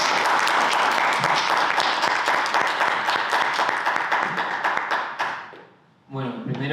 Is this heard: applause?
yes